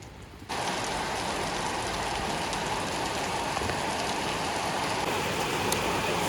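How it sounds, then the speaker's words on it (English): Heavy rain pours down steadily, a dense, loud, continuous hiss of drops on surfaces that starts abruptly and holds without pause. "So the rain became heavier"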